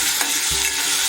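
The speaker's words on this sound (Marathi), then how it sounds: "आता त्यामध्ये आपण टोमॅटो घालून घेऊया। तो पण आपण व्यवस्थित मिक्स करून घेऊया भाजी।" A spoon stirs onion and tomato frying in a pan, with a steady close sizzle and a few scraping strokes, no voices.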